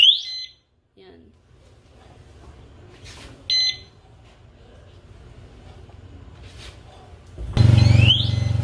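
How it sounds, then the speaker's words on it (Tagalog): A motorcycle disc lock alarm sounds in short electronic beeping chirps, then a loud harsh wail near the end over a running engine, with quiet mechanical handling noise between bursts. "So let's see how this alarm will work when the engine is on."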